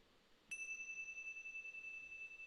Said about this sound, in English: I shall begin with a bell